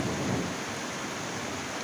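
Rain pouring outside with thunder rumbling low, a dense, steady wash of noise with no voices.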